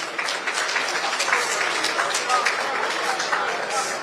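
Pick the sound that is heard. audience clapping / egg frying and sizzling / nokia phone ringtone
audience clapping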